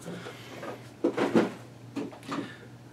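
A drawer in a chest of drawers used for office storage slides and rattles, a few scraping and knocking movements with small contents shifting, close and moderately loud with no talk.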